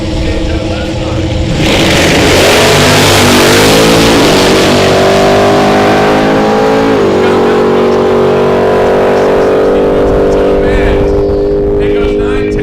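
A naturally aspirated, air-and-fuel British Mercury Cougar drag race car launches at Bradenton Motorsports Park, its engine revving hard with rising pitch through gear changes, loud and close, with an announcer talking over it.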